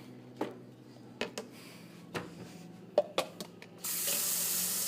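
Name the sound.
water running from sink tap into a cup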